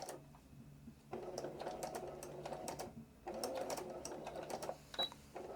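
A sewing machine stitches rag quilt pieces of homespun fabric with batting, running in short bursts with brief stops, including a quick back stitch, close and clear.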